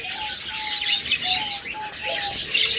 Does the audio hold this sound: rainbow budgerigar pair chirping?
yes